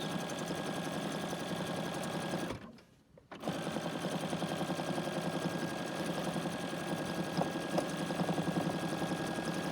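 A BERNINA sewing machine stitching a sketch applique runs with a steady rapid mechanical whir, briefly stops for under a second, then resumes at the same close, even pace.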